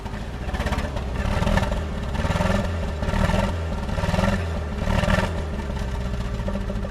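A Honda City Turbo II engine idles on its own without throttle, a steady rumbling drone with slight rhythmic surges, close by and with no talk over it.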